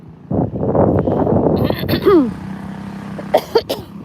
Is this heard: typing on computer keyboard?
no